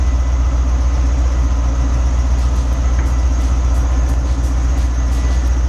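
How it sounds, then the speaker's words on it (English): A Chevrolet Corvette C7 idles, started up during winter care. A loud, steady, low engine rumble holds evenly throughout with no change in pace. "I'm going to start this car up too."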